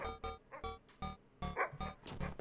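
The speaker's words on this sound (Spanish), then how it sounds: "Creo que vienen perros." Dogs bark in the horror video game Those Nights at Rachel's 2, a quick run of several sharp, fairly faint barks and yips in an uneven rhythm.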